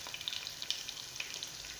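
Green chillies frying in a pan for a Kerala-style potato curry, with a faint, quiet sizzle and light scattered crackles.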